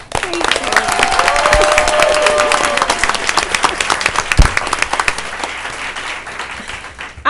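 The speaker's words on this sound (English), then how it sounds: "the biggest cheering crowd we've ever had at a board meeting" Loud, sustained applause and cheering fill a crowded board of education meeting room, steady clapping throughout with a brief surge near the end.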